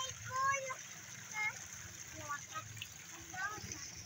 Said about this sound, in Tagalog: Kusog kayo ang tubig diri guys so kay napuno jud ang kanal.